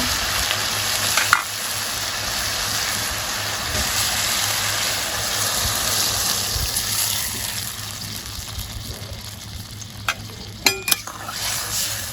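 Steady, loud sizzle and bubbling of sautéed bottle gourd in a pan with water added, continuous throughout with a few sharp clinks of a utensil near the end, no talking.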